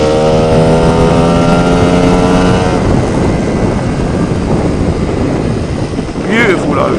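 Lambretta scooter fitted with a Simonini 260 engine and a box pipe, revving with a strong harmonic engine drone that rises in pitch and then breaks into a rough, loud, close exhaust roar, with brief talk near the end.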